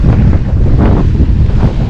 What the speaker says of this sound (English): Well, it's pretty windy. 20 gusting 30, I reckon.